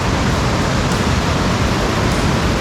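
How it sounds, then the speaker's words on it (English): Water cascading downstream through a series of small falls near Savage Falls, Tennessee, rushes in a steady, dense roar that stays loud and unbroken throughout. "So nice, beautiful cascade area here. Flowing downstream."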